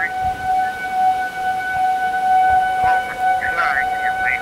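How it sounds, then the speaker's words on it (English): Civil defense sirens sound during a tornado warning in Lincoln, Nebraska, a steady wailing tone carrying over outdoor wind noise, with brief voices in the background. "That was the sirens at Southeast and Pound Middle School that just went off"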